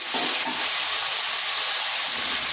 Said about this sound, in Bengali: দিয়ে দিচ্ছি কেটে রাখা আলু।